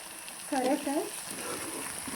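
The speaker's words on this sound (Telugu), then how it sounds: "ఉల్లిపాయ పేస్ట్ బాగా ఫ్రై అయింది కదండి" Onion paste frying in oil for fish curry, a soft, steady sizzle heard at low level with a short faint tonal squeak early on and quiet background room noise.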